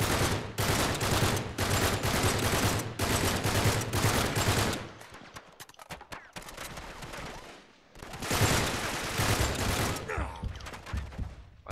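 Rapid automatic gunfire in the action game Uncharted 3 empties a whole magazine, dense loud bursts of shots for several seconds, a short lull with scattered pops, then another sustained burst.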